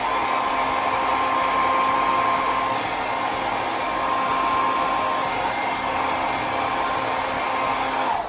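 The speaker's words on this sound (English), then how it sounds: "I just run through them real quick with the hairdryer" A hair dryer blows steadily and loudly for the whole stretch, close by, as it dries bangs through a small round brush, its even whoosh carrying a faint whine, with no talk over it.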